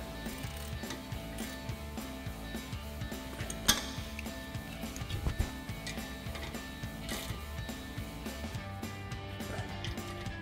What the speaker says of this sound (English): tighten down our slider pin mounting bolts using our 14mm socket on our ratchet